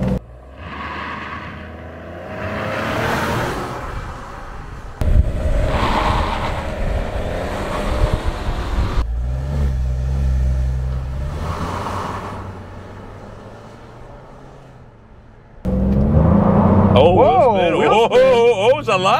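A Buick Encore GX Avenir with a 1.3-litre three-cylinder engine and a CVT accelerates hard in a 0-60 run, its engine droning and surging under loud, excited talk from inside the cabin.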